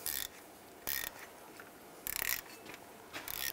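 A hand ratchet tightens a bolt on the parking brake shoe clip of a 2001-2008 Chevy Trailblazer, giving four short bursts of quick clicking with quiet pauses between them.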